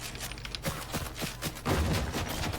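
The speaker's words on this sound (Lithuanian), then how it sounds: "O dar va čia yra šūvai." Gunfire in a Fortnite squads match rattles in quick bursts of sharp reports, fairly quiet and somewhat distant, with a denser volley in the second half.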